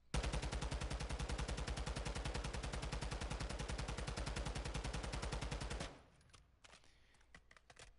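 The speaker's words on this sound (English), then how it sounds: "we're going to go and fire, and we're going to see what the recoil spread looks like" Automatic gunfire from a gun in the video game DMZ, fitted with a basic attachment: one loud, rapid, continuous burst lasting about six seconds, then abruptly stopping, leaving a few faint clicks.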